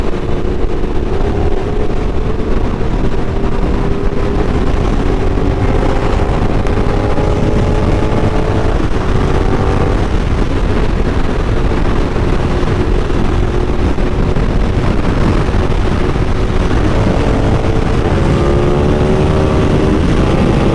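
A KTM SuperDuke motorcycle engine drones steadily while riding, loud and continuous across the whole stretch with rising and falling pitch as it shifts, mixed with constant wind rush.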